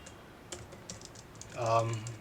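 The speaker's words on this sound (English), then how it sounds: "let me just get the typing" Quiet, scattered keystrokes on a computer keyboard tap along at an uneven pace, with a brief stretch of speech rising over them near the end.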